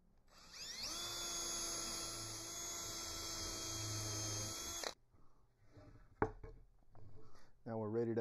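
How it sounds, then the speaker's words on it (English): A power drill whines steadily for about five seconds, pre-drilling the box joint fingers of a wooden beehive box, then stops, followed by light workshop clatter and a few brief noises. "For our fronts and backs, I want to pre-drill our top and bottom finger on both ends."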